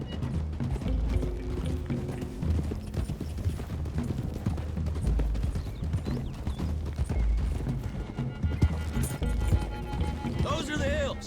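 Several horses gallop in the Red Dead Redemption 2 video game, with fast continuous clip-clop hoofbeats under game music and spoken dialogue.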